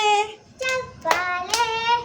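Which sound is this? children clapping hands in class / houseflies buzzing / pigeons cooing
children clapping hands in class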